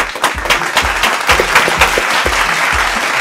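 Studio audience on a Spanish-language TV variety show bursts into applause for musical guests, a dense, sustained clapping wash at steady volume throughout, with no talk over it.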